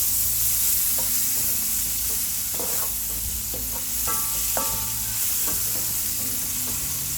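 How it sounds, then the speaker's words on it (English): Onions frying in olive oil in a paella pan, a steady close sizzle throughout with light spatula scrapes and taps, no voices. "The first thing, I'm gonna fry my onions."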